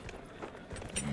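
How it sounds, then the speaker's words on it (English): A horse in Dragon Age: Inquisition, out on the Exalted Plains, clip-clops with a few soft, faint hoof thuds in quick succession, with a brief low voice at the end. "There's me horse."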